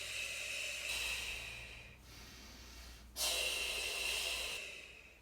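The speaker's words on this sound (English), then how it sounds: "Are you hearing how I'm doing a full breath for each leg pass?" Full, deep breaths during a core exercise on a small barrel, close and audible: a long hissing exhale, a pause, then another strong breath, with a faint low hum underneath.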